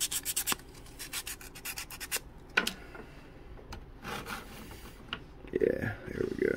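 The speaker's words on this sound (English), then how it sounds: "Hit it with some sandpaper in case you don't want a seat." A part of a 1:20 scale 1987 Atlas Van Lines model hydroplane rubbed with a small piece of sandpaper, quick close rasping strokes in bursts, with a voice at times.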